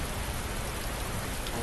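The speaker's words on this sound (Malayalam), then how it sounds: "മഴ പെയ്യുന്നുണ്ട്, വേഗം വാടാ പൊട്ടാ." Rain falls in a video game as a dense, steady hiss of drops, loud and continuous throughout the short moment with no voices over it.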